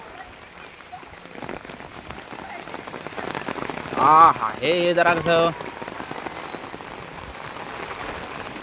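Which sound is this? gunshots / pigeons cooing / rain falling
rain falling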